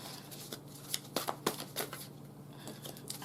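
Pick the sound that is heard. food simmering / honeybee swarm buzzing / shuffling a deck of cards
shuffling a deck of cards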